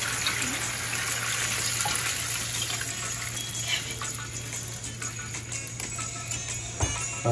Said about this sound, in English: you pour your pineapple juice.